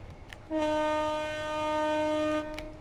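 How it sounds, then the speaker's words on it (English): A train horn sounds its low tone in Train Sim World 3 on the Rochester to Faversham route, one steady sustained blast of about two seconds, loud and close over a rumbling cab. "That warrants a blast of the low tone of the horn."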